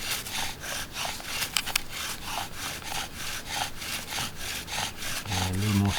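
A bow drill spindle saws back and forth against wood while building a friction fire, producing rhythmic rasping strokes roughly twice a second, close and steady, with a short louder scrape partway through.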